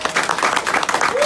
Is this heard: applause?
yes